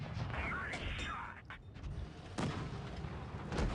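A Comet tank's cannon fires in a video game, booming blasts that rise over a steady din of battle noise, heard amid talk.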